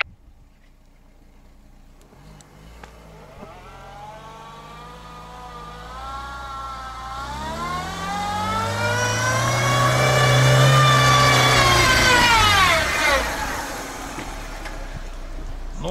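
A 4x4 on Matador MP72 Izzarda A/T2 tires churns through mud in low gear with the differential locked, its engine building from a low drone to a strained, loud rev and then easing off.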